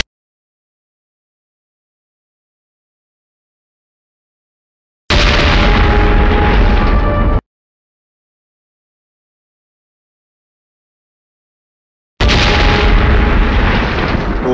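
Enemy cannon shells exploding in snowy mountain warfare in the trailer for the 2003 Hindi film Stumped, two loud, sustained booming blasts of about two seconds each, separated by silence.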